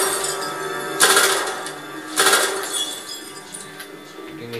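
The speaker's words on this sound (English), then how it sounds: "You can hear it shattering, but you don't see it." Glass shatters twice in the 007 Legends video game, two sharp bright bursts about a second apart, each followed by tinkling fragments settling, with no speech.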